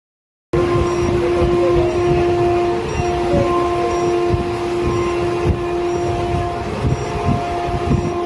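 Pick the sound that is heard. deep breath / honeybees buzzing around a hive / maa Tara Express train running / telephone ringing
maa Tara Express train running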